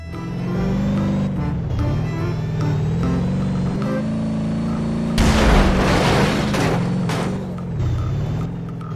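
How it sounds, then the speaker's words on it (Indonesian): A toy steel tank plays a steady electronic motor drone, interrupted by a loud burst of noisy explosion sound effect partway through, then the humming tone resumes. "Tank baja."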